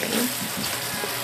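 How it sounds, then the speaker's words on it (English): Tuna and mushrooms sauteing in a pan give off a soft, steady sizzle and faint stirring scrapes, close and quiet. "So we will just saute it together."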